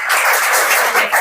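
An audience bursts into a brief round of dense, loud clapping in a hall.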